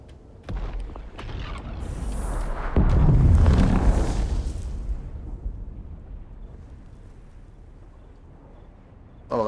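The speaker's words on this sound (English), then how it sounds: "Oh, that's a big old explosion and..." A big explosion in the video game Dune Awakening opens with sharp cracks, then swells into a loud, deep rumbling blast that slowly fades into a long, low tail.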